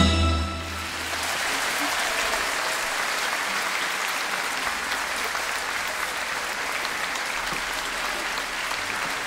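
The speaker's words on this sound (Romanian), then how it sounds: "hai să-i aplaudăm mai tare, mai tare" An audience applauds at a holiday concert, a dense, sustained round of clapping that stays loud and even throughout after a brief opening sound.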